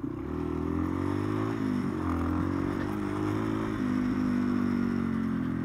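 A Yamaha XT225 dual-sport motorcycle rides steadily over gravel, its engine humming loud and close throughout while loose stones clatter and scrape beneath the tires.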